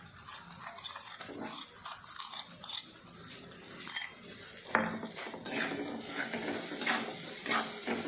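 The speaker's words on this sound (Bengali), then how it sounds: "এবার একটু সাঁতলে নেবে" Ground spice paste with green chillies sautéing in a pan, a steady close sizzle under repeated scraping and clinking stirs from a metal spoon, with no voices.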